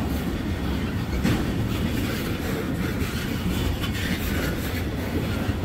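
Long freight train carrying liquefied petroleum rolls steadily past, a continuous loud rumble with faint rhythmic wheel clatter and no voices.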